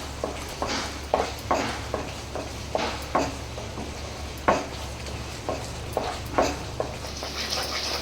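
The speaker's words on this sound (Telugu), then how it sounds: "దీన్ని ఉండలు లేకుండా బాగా కలిపేసుకోవాలి" A thick, sweet prasadam mixture tinted with red food colour is stirred in a pot, with regular scraping strokes about once every half second over a faint bubbling sizzle and a low steady hum, close by with no voices.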